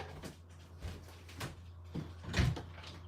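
A house door opening to let a dog in: a few soft knocks and thumps, then a louder clunk of the door moving, fairly close and quiet, with no talking.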